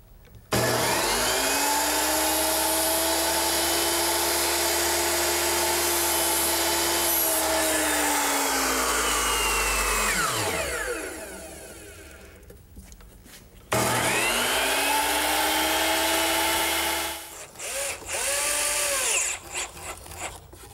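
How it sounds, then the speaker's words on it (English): A circular saw tilted to a 13-degree bevel cuts wooden rafters for a roof frame: a loud, steady motor whine through two long passes, dropping away between them and winding down at the end, with no talk. "Now I'll just tilt my saw to 13 degrees, the same bevel that we used on the ridge and the fascia"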